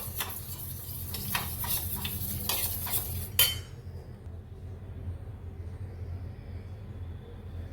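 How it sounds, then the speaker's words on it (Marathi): A spoon whisks thick curd in a bowl with quick, rhythmic scraping and clinking for about three seconds, then stops with one last tap. A low, steady background hum continues afterward. "दही चांगलं आपल्याला फेटून घेऊया."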